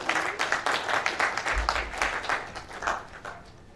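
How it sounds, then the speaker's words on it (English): An audience at a technology conference applauds with steady, moderately loud clapping that lasts several seconds, with a low rumble partway through. "Can we give him another round of applause?"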